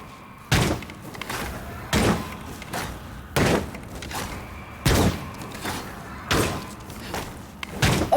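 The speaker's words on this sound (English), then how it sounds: "The fire arrows sound like gunshots." Fire arrows in the Demon's Souls remake hit with sharp, gunshot-like bangs, about six of them at fairly even intervals over a quiet low background, with no one speaking.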